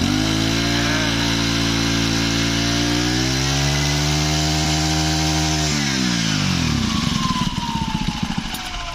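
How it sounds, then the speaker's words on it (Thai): A Makita four-stroke engine is revved hard, a loud continuous buzzing roar that holds high, dips and climbs again, then drops and sputters toward idle at the end. "เร่งเครื่องครับเร่งเครื่องครับ"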